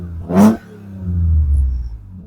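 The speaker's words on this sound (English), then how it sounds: "let's give it a quick blip and see how that exhaust sounds" An Alfa GTV 3.0L V6 engine gives one quick, sharp rev through the exhaust, then settles back into a low, rumbling idle.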